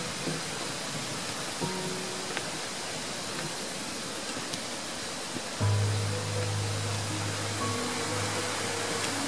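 Mountain stream flowing steadily as a broad, even rush of water on a solo hike in the Embrunais, with a low rumble joining partway through that could be distant thunder; no voices.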